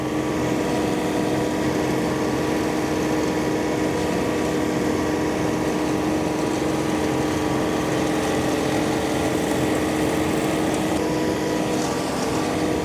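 A 46-horsepower tractor pulls a 10-foot flexwing mower through heavy fescue and small trees, giving a steady, loud engine drone with constant cutting roar that holds unchanged throughout.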